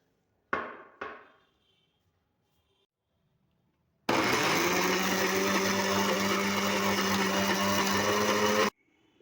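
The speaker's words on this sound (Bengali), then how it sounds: "এবার কড়াইশুঁটিগুলিকে আমি পেস্ট করে নেব।" A mixer grinder grinds green peas with a little water into paste, running loud and steady for several seconds after two sharp knocks and a pause, then cutting off abruptly.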